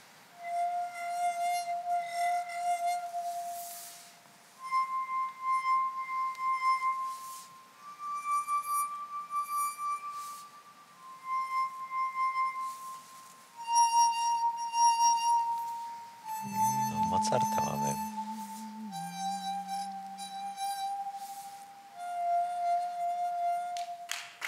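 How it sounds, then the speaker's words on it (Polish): Tuned wine glasses played one at a time, each ringing a clear sustained tone in a slow melodic sequence, with a low hum briefly joining near the middle; no talking. "Nastroił wszystkie kieliszki. Posłuchamy w takim razie, jak brzmią kieliszki."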